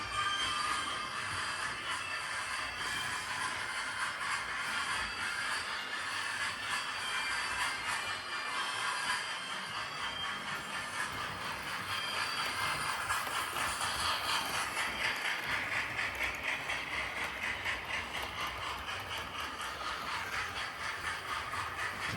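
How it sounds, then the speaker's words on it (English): A Hornby Flying Scotsman model train running continuously around a layout, a steady whirring hum with light rattling of small wheels on track, even in volume throughout. "It's actually quite nice to see a full train being run around my layout again"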